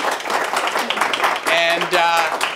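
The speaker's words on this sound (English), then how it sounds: "please, let's give a round of applause for our panelists who did such a great job" An audience at a teaching and learning panel event gives steady applause, many hands clapping together, with a voice speaking briefly over it.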